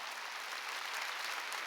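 A church congregation at a Sunday worship service claps together in a faint, even wash of applause that holds steady for under two seconds.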